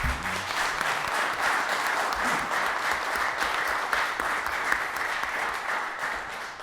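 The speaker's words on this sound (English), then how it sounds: "And let's give him a round of applause." Steady round of applause in a state senate appropriations committee meeting, many people clapping evenly throughout, with a brief voice at the very start.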